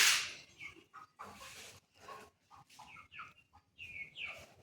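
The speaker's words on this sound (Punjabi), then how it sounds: "ਇੱਧਰ ਮੁਰਗੇ ਛੱਡ ਲਏ ਆ ਜੀ ਇੱਧਰ ਫਿਰਦੇ ਆ ਮੁਰਗੇ" Several chickens cluck in short, uneven bursts, some calls rising higher and sharper, fairly close with quiet gaps between them.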